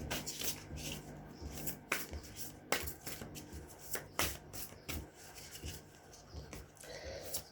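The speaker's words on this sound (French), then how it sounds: "je prends un peu de temps pour remuer les cartes parce que j'ai mal à la main" Tarot cards are shuffled by hand close up, a steady run of soft rustling and riffling strokes with brief slaps, quiet, with no talk.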